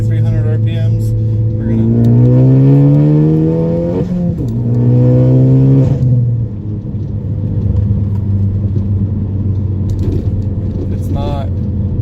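Ford Focus ST with a Tial blow-off valve and upgraded charge pipe, heard from inside as the engine revs rise through two gear pulls, then drop to a steady cruising rumble with a brief airy whoosh at the shift.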